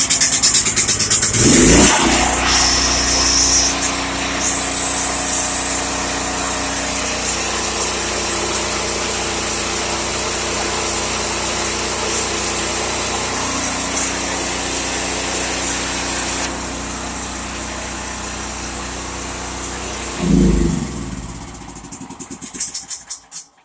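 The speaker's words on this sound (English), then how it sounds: "Flip the choke lever down here on the side next to the gas lever. Fires up." A portable generator engine with a choke lever is pulled into life, sputters, then fires up and runs at a steady loud drone for most of the clip before slowing and cutting out near the end; no talking.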